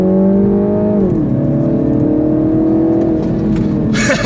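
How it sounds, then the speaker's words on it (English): A small car accelerates hard. Its engine whines loud and close, drops in pitch at a gear change, then climbs steadily again under a rough broadband roar. "Give it some juice, and boom! Yeah, the tires are tearing away."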